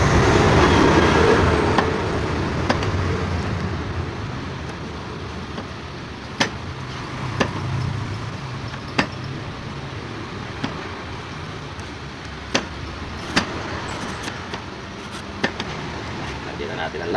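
Roadside traffic rumbles steadily in the background, with sharp clicks and knocks from nearby work punctuating it and people talking over the noise.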